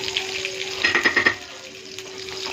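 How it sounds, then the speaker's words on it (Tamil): Mustard seeds, curry leaves and green chillies hit hot oil, giving a close, steady sizzle with a brief cluster of sharp crackling pops in the middle; no one speaks. "எண்ணெய் காய்ஞ்ச உடனே கடுகு போட்டுக்கலாம் கடுகு போட்டுக்கலாம் கறிவேப்பிலை போட்டுக்கலாம் கறிவேப்பிலை பச்சை மிளகாய்"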